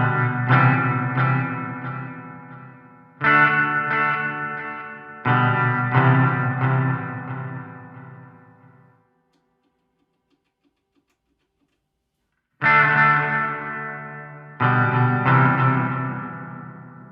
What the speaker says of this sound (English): I'm going to choose the delay plus reverb effect to demonstrate this for you.